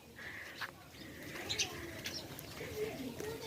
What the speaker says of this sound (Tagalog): Ang dami ibon sa may kahoy at ang lalaki ng tiyan nila.